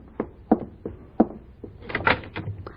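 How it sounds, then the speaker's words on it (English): An old radio comedy's front door being answered: a few sharp knocking and door-handling thumps, then rustling movement and a latch sound, all close and moderately loud with no talking. "I'll go to the door."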